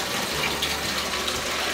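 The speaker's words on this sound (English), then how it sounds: "fill that all the way up with water" Water gushes steadily into a tall Folgers coffee can, a close, continuous rushing fill with no voices.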